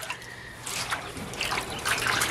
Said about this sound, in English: I unplugged the drain right here. There's like a drain hole. I unscrewed it, and it's all coming out of here.